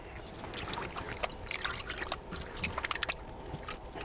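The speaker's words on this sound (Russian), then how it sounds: "Смачиваем руки." Soft splashing and trickling of water close by, like hands being wetted in a bowl of water while shaping wild boar lula kebab onto skewers, with faint clinks.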